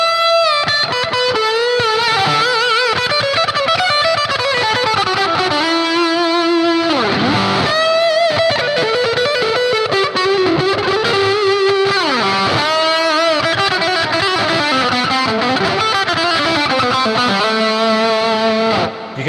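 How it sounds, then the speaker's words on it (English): Electric guitar playing through a Dyna Comp compressor and a Tube Screamer overdrive, loud, sustained and distorted, with bending lead lines and ringing chords filling the whole passage without talk. "if you kick it all in, so you got the Dyna Comp and the overdrive, or the tube screamer."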